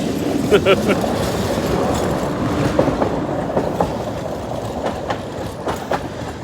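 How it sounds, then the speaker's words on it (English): A tram rolls past on a street during an evening walk, its wheels clattering steadily over rail joints at close range, with faint squeals and passing clicks throughout. "the tramway is coming by"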